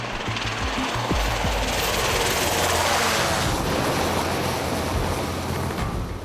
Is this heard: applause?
no